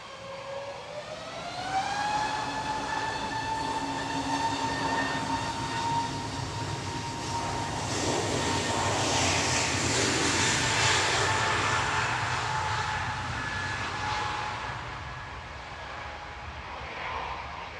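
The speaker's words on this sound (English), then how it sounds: "Next coming in is Iberia, coming in from Madrid, ECLUS, A320 flight 1891." An Iberia Airbus A320 arrives from Madrid at Manchester Airport, its engine whine rising in pitch and then holding as a broad roar swells to a peak midway and slowly fades, steady and fairly close.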